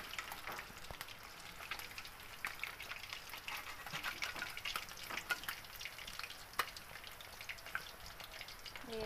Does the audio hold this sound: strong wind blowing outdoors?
no